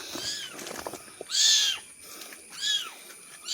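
A kitten gives three separate high, drawn-out meows with a falling tail, loud and close, each spaced about a second apart over a faint background.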